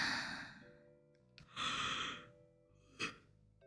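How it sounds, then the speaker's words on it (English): A single drawn-out yawn with sighing breaths rises and fades twice, close and fairly quiet, with faint game sounds underneath during a late-night cozy session of the cooking game PlateUp. "Pardon my yawn."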